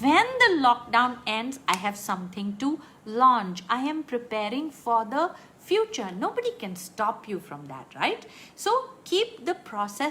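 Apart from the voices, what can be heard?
No everyday noises stand out.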